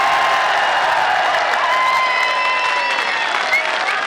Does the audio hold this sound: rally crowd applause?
yes